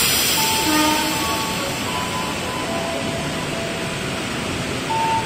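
A Tokyo 8500 series eight-car commuter train departs Tanjung Barat station during wind and rain, producing a loud, steady rumble and roar close by with faint tonal whines over it.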